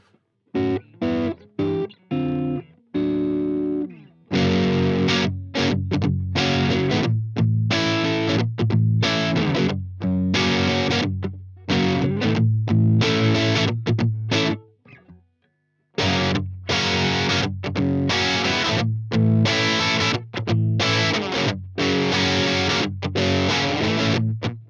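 An electric guitar played through an ENGL Ritchie Blackmore amplifier with extra gain turned up gives loud, distorted, dry riffs. Chugging chords and short muted stabs are separated by brief pauses, one longer gap midway.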